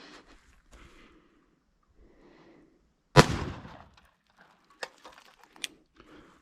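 A Pietta 1851 Navy .36 caliber black powder cap and ball revolver loaded with 25 grains of powder fires one loud, close shot that decays quickly, followed by a few faint clicks and knocks.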